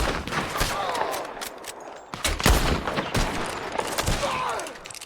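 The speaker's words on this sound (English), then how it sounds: "Shooting my bolt action." Bolt-action rifle shots ring out among a gunfight in Red Dead Redemption 2, a string of loud cracks with echoing tails and overlapping fire from other guns, without talk.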